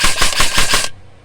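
A gun test-fired in semi-automatic mode gives a quick string of about five sharp shots in under a second, loud and close, then stops abruptly.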